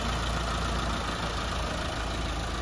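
A Mitsubishi Lancer 4G15 engine, freshly overhauled, idles steadily and evenly, a continuous low rumble with no revving, close up and without speech.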